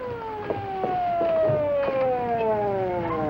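Police car sirens wailing in a continuous falling tone, fairly loud and close, with faint street noise and brief thumps beneath.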